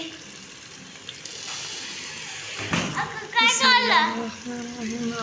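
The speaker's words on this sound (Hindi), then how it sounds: "पानी डालने लगी इसके अंदर।" Water splashes into a hot pan with a brief hissing sizzle, followed by someone talking over the soft bubbling.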